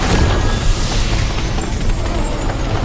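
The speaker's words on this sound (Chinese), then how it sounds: "得在兽潮到达之前轰开这堆乱石" An animated fantasy series plays a blast that smashes open a pile of rocks: a loud, sustained rumbling roar with crashing debris, filling the whole stretch without speech.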